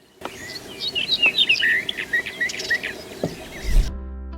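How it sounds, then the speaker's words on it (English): An Eastern Orphean Warbler sings a rich, rapid run of warbled phrases, close and clear over faint background hiss, ending abruptly after about four seconds. "Though not the most colorful bird, the Eastern Orphean Warbler makes up for it with its song."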